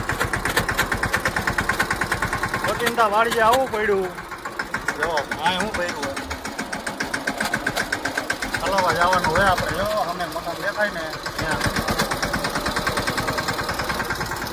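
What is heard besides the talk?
tractor engine running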